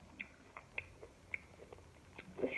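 Crunchy candy with nerds, gummy and marshmallow bits is chewed up close, giving faint, irregular crisp crunches and bites over about two and a half seconds.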